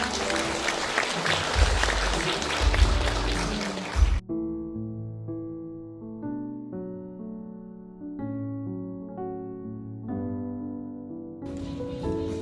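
A burst of applause from an audience at an awards ceremony in a small concert hall for about four seconds, then it cuts off abruptly as gentle instrumental music takes over.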